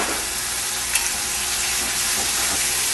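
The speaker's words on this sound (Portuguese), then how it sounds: "Champignon a gente entra do mesmo jeito que o alho, ele entra laminado também." Sliced mushrooms and garlic fry with rice in a hot pan, giving a steady, close sizzle with light stirring and scraping throughout and no voices.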